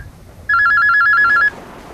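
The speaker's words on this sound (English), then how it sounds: "your brick-like cellular phone erupts into a frenzy" A brick-like cellular phone rings in a rapid electronic trill, one loud, close burst of about a second that cuts in abruptly and stops, with a faint room hush before and after.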